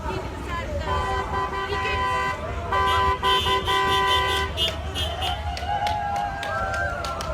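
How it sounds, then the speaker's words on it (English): Several car horns honk in short and long blasts of support over passing traffic at a street rally in Edmonton, with voices chattering in the background. "Gotta love those honks of support."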